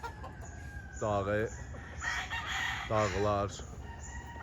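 Roosters crow twice at a rural spot near El Nido in Taytay, Palawan, two long rising calls about two seconds apart, fairly close, with faint talk and outdoor background in between.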